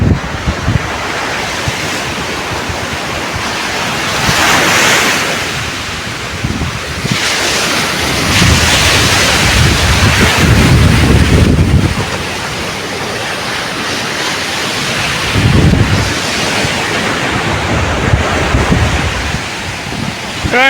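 Ocean waves surge fast onto the sandy beach at Chennai in repeated loud crashes and long foaming washes, heavy wind buffeting the microphone throughout, with no talking.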